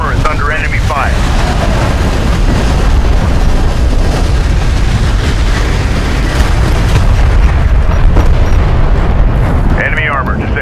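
Explosions as a bomber comes under fire in Homeworld: Deserts of Kharak, a continuous heavy rumbling roar of blasts and engine noise, loud throughout, with brief radio-style voices at the start and end.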